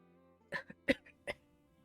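A character in the video game My Time at Sandrock coughing, several short, distinct coughs in an irregular burst, close and clear over quiet game ambience.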